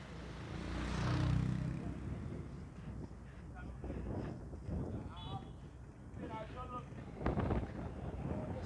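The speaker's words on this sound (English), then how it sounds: "it is very, very windy" Strong wind rumbles and gusts against the microphone while a person talks throughout on a street in Kissy, the buffeting loudest near the start.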